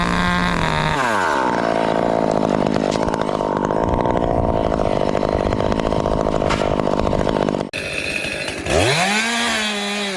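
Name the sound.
chainsaw cutting through tree branches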